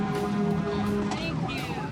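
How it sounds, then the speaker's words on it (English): A fire truck siren on a wildfire response wails steadily with rising and falling tones, fairly loud and close, blended with engine and road noise. "We've got enough lights and a loud enough siren."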